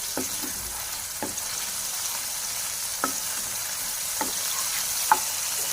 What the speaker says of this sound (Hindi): इसमें डाल देंगे शिमला और प्याज। तो इसे हमने 2 मिनट तक सोते कर लिया है।